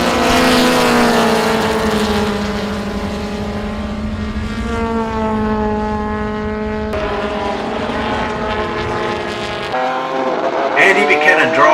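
1960s race cars, including a Ferrari 250LM and a Lotus Elan, racing closely at Warwick Farm; loud engine whines rise and fall in pitch as cars pass, with a commentator talking over them.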